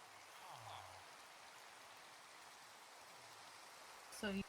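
Steady rainstorm in a jungle at night in a Minecraft-style video game, a soft continuous patter of rain throughout with a brief louder thump near the end.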